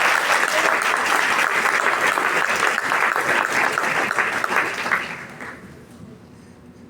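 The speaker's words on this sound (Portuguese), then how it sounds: "Bate palmas para Jesus." A church congregation claps together in a long, dense burst of applause that fades out abruptly toward the end.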